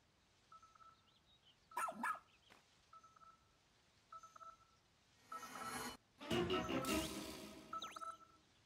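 A rescue pup companion in the Pikmin 4 video game barks in short repeated bursts among game chimes, beeps and bright synthetic effects, fairly faint with no speech.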